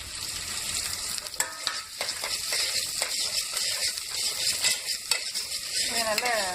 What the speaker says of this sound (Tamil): கொஞ்சம் கருவேப்பிலை, அதுக்கப்புறம் கொஞ்சம் சின்ன வெங்காயம் வெட்டி வச்சுருக்கிறத வதக்கிடணும்